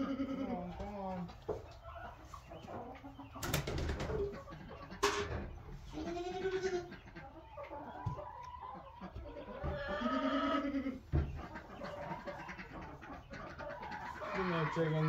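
Farmyard poultry settling in for the night, with bird and bleat-like calls scattered through, a few sharp bangs, and a person calling to the flock throughout.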